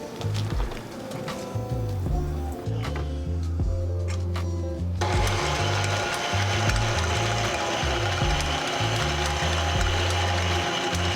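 Electric mixer whipping heavy cream with vanilla extract and powdered sugar, a steady close mechanical whir with a rattling beater rhythm, speeding up partway through, no voices.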